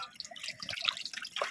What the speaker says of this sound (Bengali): চলো চিকেনটা ততক্ষণ আমি জল দিয়ে ধুয়ে নিই ভালো করে।